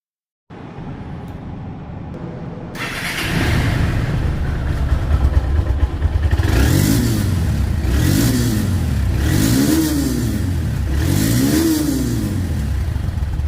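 A 2022 Honda Hornet 160 motorcycle engine starts up and idles, then revs up and down in several repeated surges, close and loud.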